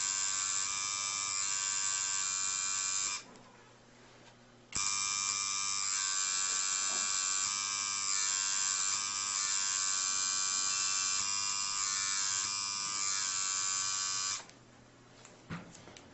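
An electric tattoo machine doing white highlights, a steady loud close buzz that runs for several seconds, cuts out briefly, then resumes and stops again near the end, with no talking.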